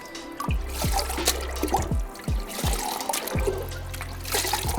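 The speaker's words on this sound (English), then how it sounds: "Now the biomedia, I'm just going to rinse it through a little bit, just like so." Water trickles and splashes steadily as aquarium filter biomedia is rinsed by hand, with repeated gurgling bursts and drips close by and no talking.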